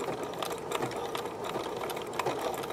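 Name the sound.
sewing machine stitching cord for trims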